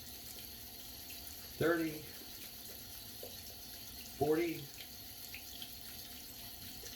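Tap water runs steadily over a shaving brush in a bathroom sink, a continuous hiss under a man's two short spoken counts.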